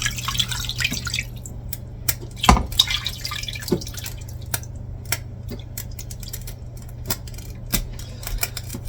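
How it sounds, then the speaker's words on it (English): Filtered water is poured into cooking pots for canning chicken broth, heard as close, irregular drips, splashes and small metallic clinks over a low steady hum, with no talking. "I'm gonna fill these pots with filtered water."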